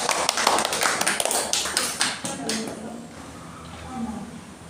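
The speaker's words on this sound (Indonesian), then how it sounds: "beri tepuk tangan untuk kelompok 2." Students in a classroom clap for a group during a micro-teaching maths lesson, a burst of quick uneven hand claps that fades out after about two seconds, leaving a quiet room with faint background voices.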